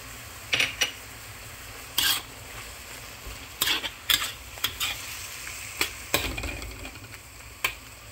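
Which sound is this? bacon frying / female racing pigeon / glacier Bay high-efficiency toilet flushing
bacon frying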